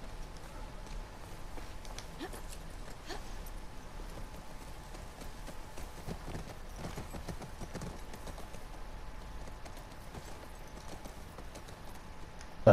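Horse hooves clip-clop steadily in The Last of Us Part II, a continuous walking rhythm of moderate loudness over game ambience, with no clear talk.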